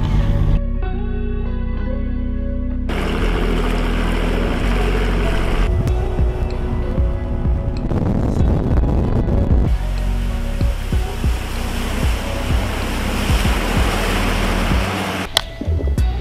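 Outboard-powered fishing boat running on a lake during a summer bass trip, a loud steady motor drone with broadband wind and water rush that shifts in character several times, no talking.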